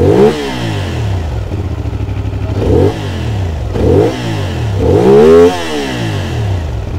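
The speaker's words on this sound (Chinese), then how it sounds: "我们先来听一下它的引擎声浪" A CFMOTO 450SR, a twin-cylinder motorcycle with 270-degree firing, is revved up close in several loud blips, each rising sharply and falling back to a throbbing idle between pulls.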